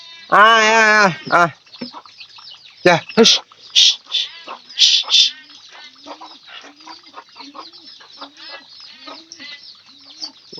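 Chickens and a chick clucking and squawking nearby, with a loud burst of agitated calls at the start and softer scattered clucks after, while people talk over them.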